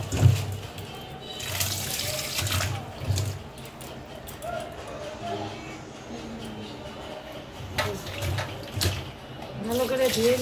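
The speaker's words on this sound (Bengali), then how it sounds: "এই যে এখন এই মাছগুলো ভালো করে ধুয়ে নিব।" Bata fish being rinsed by hand in salted water, with splashing and sloshing in a basin that rises and falls in uneven bursts under a voice talking throughout.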